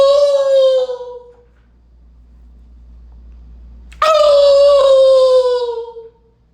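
A person's voice imitates a wolf howling at the moon in two long, loud, falling howls separated by a pause, each sliding gradually downward in pitch and tapering off.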